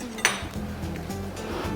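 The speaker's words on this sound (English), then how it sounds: "we're going to pack this as full as we can with our tomatoes" Ripe tomatoes being packed into a glass canning jar by hand, giving a few soft clinks and knocks against the glass, with a sharper tap near the start, close and fairly quiet.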